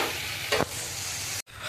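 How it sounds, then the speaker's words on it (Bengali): Potatoes fry in a pan with a steady close sizzle and one brief stir, then cut off abruptly, with no voices. "তাই চলো আমি আলুটা ভেজে নিই"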